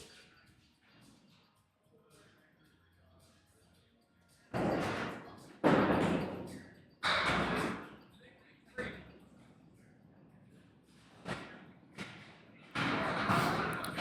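A candlepin bowling ball strikes pins at Riverwalk Lanes, sharp clattering crashes that recur several times, separated by quieter stretches of faint commentary and alley ambience.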